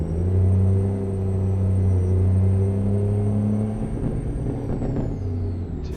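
A Scania R or Mack R truck engine in American Truck Simulator on a race track bounces off the rev limiter, a loud steady harmonic drone that holds high and then sags as the revs drop near the end, with no talking.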